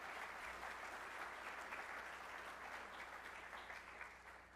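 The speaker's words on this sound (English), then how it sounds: "That does deserve a round of applause." Sustained audience applause at a college spring closing meeting, a dense steady wash of many hands clapping throughout that thins slightly toward the end.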